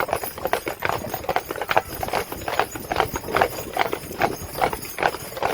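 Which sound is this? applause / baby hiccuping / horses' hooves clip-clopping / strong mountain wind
horses' hooves clip-clopping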